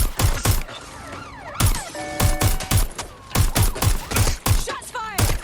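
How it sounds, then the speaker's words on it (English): Gunfire rings out in the video game Watch Dogs: Legion, with loud, sharp shots in irregular bursts mixed with rising siren-like tones from a police chase. "Shots fired!"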